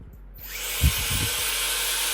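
A Shark FlexFusion hair dryer switches on, and its airflow quickly swells into a loud, steady whooshing roar with a faint motor whine underneath.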